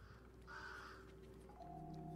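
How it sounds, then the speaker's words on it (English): In the Little Nightmares 3 video game, a crow gives a single rasping caw over a low, steady ambient drone, followed by a faint sustained tone. "Now there's a crow with a key."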